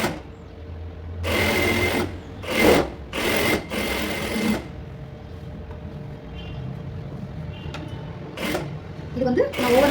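An overlock sewing machine runs in several loud bursts while stitching a blouse lining, stopping and starting between short pauses over a low room hum.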